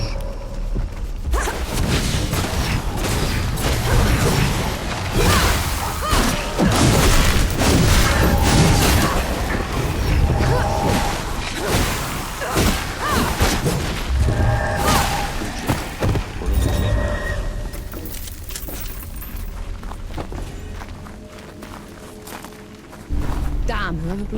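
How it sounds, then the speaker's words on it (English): Exploding barrels set off a cave-in in the video game Flintlock: The Siege of Dawn, with repeated loud booms and thuds, rumbling debris and whooshes going on for a long stretch before the clatter gradually thins out. "Whoever blew those barrels caused a cave-in."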